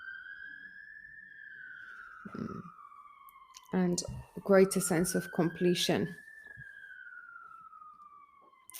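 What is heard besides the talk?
emergency vehicle sirens in the background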